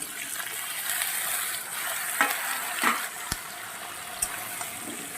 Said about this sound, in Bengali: সবজিগুলো এর সঙ্গে আমি সুন্দর করে ভেজে নেব